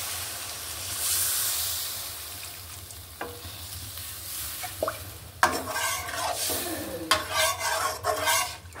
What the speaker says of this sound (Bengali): এখন পানিটা অ্যাড করে দিব।